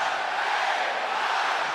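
A wrestling arena crowd chants along with LA Knight, a dense, sustained roar of many voices that stays loud and steady without a break.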